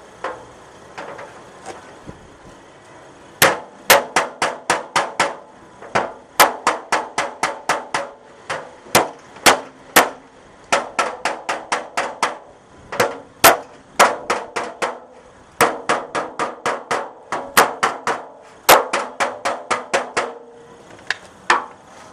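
Repeated sharp metallic clangs of a hammer striking dented sheet metal over a dolly to beat out dents, coming in quick bursts of several blows with brief pauses between.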